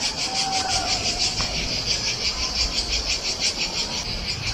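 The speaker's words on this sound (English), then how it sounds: "I'm sure that you can hear the chanting of the cicadas" A steady, pulsing chorus of cicadas fills the air in Verona, Italy, loud and continuous with a rhythmic throbbing, against faint background rumble.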